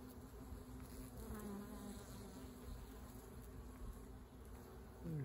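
A steady, close insect buzz drones on without pause, a honeybee hovering nearby at a flowering palo verde tree in a backyard, against quiet outdoor background.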